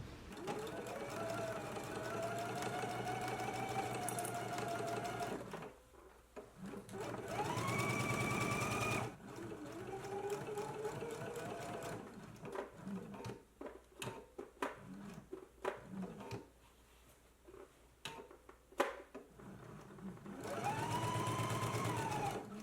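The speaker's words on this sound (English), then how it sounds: "I'm gonna head to the sewing machine" A sewing machine stitches the waist dart of a jacket in steady running bursts, broken by short pauses and a few sharp clicks, then running again.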